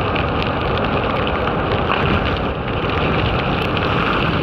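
Steady heavy rain drumming on a surface, a constant close hiss with no pauses.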